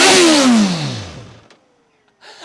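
A superbike engine blares loudly and winds down from a high rev into near silence, followed by a short, sharp blip of the throttle at the end, with no talking.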